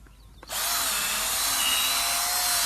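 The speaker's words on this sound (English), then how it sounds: "So you pop it in the ground and you drill." A power drill auger bores a hole into garden soil in a planting bed; after a short quiet start, a loud, steady, grinding whine kicks in and runs on unbroken.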